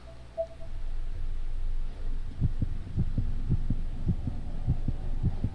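Slow, steady heartbeat thumps from the horror video game Corpse Party Blood Drive, starting a few seconds in and repeating at an even pace over a low ambient hum, with no talking.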